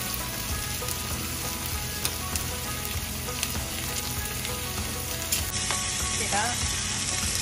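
Meat and vegetables sizzle steadily in a hot pan during an easy weeknight dinner, a dense continuous frying hiss with occasional clicks from stirring, and a voice speaks briefly over it.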